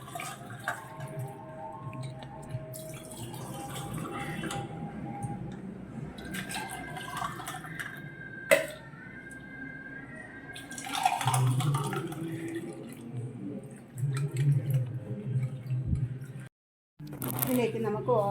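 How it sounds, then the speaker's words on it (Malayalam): Homemade lemon juice poured from a jug over ice into glasses, a steady liquid splash and trickle running several seconds at a time, with a brief pause, close by over a soft background murmur. "ഇതിലേക്ക് നമ്മൾ അടിച്ചു വെച്ചേക്കുന്ന നാരങ്ങ വെള്ളം ചേർത്ത് കൊടുക്കാം."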